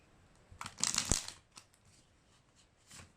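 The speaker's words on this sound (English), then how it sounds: "And I'll start shuffling." A Chinese tarot deck being shuffled, a soft close riffle and crinkle of cards in one short burst followed by a few faint taps, quiet with no speech.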